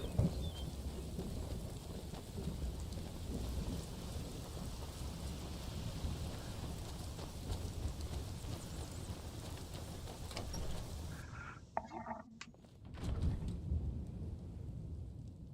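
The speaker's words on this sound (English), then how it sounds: "It's raining." Heavy rain in the video game Skyrim falls steadily with a low rumble of thunder underneath, then the downpour cuts out abruptly near the end, followed by brief clicks and thumps.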